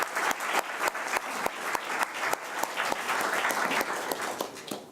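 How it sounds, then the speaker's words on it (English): A seated audience at a national youth parliament event breaks into applause, with sharp individual claps standing out over a steady wash of crowd clapping throughout. "Give me a round of applause."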